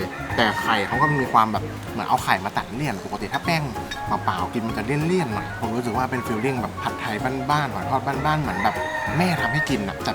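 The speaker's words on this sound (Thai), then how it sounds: "กินแบบได้บรรยากาศดีๆเสียงไก่ขันอยู่ด้านหลัง" A rooster crows a few times in the background while someone talks steadily in the foreground at an old market, the crowing fairly clear but under the voice.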